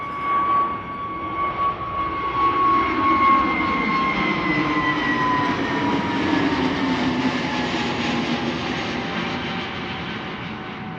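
An EasyJet airliner passes high overhead near Amsterdam Schiphol, a smooth, continuous jet whine and rumble gradually shifting in pitch as it flies by, fairly distant and alone.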